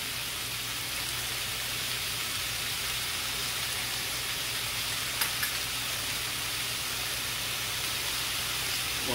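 Onions sizzle steadily in a hot frying pan, a dense, even crackle and hiss that runs throughout with a few brief pops, no voices.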